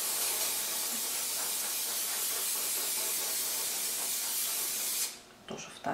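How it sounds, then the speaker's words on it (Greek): Melted butter sprayed onto a rolled-out pastry sheet makes a loud, continuous airy hiss lasting several seconds, then cutting off sharply and leaving a few quiet handling clicks. "πάω και το ψικάζω με βούτυρο"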